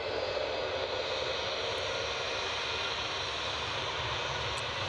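A CRJ jet airliner's engines at Newcastle Airport, a steady, broad roar that holds at an even level throughout, fairly near and unbroken.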